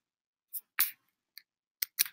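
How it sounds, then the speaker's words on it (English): Block mining in the video game Minecraft produces a handful of short, crisp crunching hits at uneven intervals, close and fairly quiet against silence. "It's mining automatically for me."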